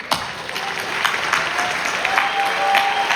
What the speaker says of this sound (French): c'est pour elle ces applaudissements